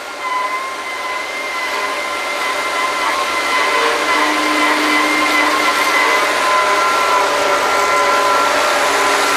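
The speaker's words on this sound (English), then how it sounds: "the mud gets pumped from the pump, and it goes up" A mud pump runs on a historical Kelly drilling rig, a loud continuous mechanical whine and roar with steady tonal hums, close and unchanging throughout, with no talk.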